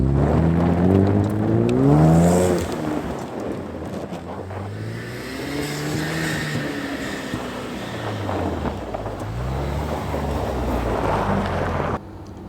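An Ecoboost Mustang spins, slides and drifts, its engine revving up and down in repeated sweeping surges, loud and close, with wind noise buffeting the microphone.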